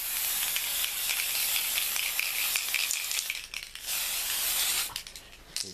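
A nearly empty spray can mists clear coat over granite-effect paint, a close, steady hiss that runs continuously and sputters in short bursts near the end.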